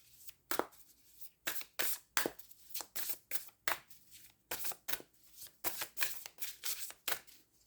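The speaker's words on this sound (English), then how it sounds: "I'm going to keep shuffling for a minute or so." A deck of cards being shuffled during a tarot-style reading, with repeated crisp riffling bursts in a steady rhythm, close and fairly quiet, and no talking.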